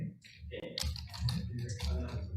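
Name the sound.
typing on a computer keyboard during a meeting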